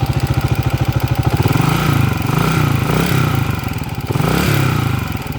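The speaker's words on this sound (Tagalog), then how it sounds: "number 1 timing gear, maingay" An engine with a badly worn number one timing gear runs at idle with a rough, rhythmic rattling clatter, loud and close, pulsing steadily throughout.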